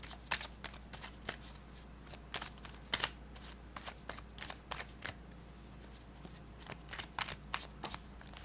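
Tarot cards being shuffled by hand, a soft, close riffling and flicking in irregular quick bursts over a quiet background hum, with no voices.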